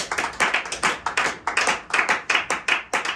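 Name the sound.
congregation clapping to acclaim the Holy Spirit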